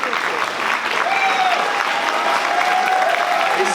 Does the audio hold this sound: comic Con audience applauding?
yes